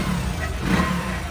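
A Hero Splendour motorcycle engine runs close by, its revs rising and falling slightly in a steady, unbroken drone over about a second.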